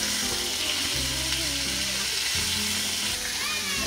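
A steak sizzles and fries steadily in a pan at a winter campsite, with a loud continuous crackle and low voices in the background.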